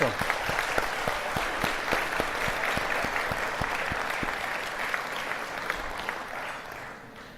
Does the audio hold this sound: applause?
yes